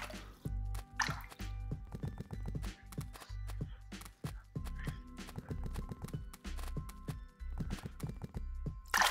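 Wet splashing and dripping water in the video game Simple Fish Adventure, a quick series of uneven plops and squishy slaps repeating closely over a low, steady background.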